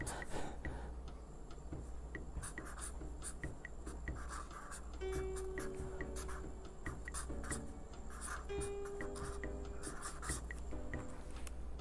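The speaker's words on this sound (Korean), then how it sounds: "막 써볼게요. 그냥" Pen scratches quickly across paper in fast, messy handwriting with overlapping letters. Close, dense strokes come in short bursts, with a faint ticking tone and room hum beneath.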